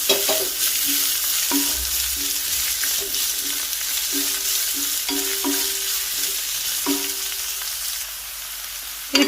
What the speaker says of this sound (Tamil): இப்போ நம்ம மெல்லிசா ஸ்லைஸ் பண்ணி வச்சுருக்க வெங்காயத்தை சேர்த்துக்கலாம்.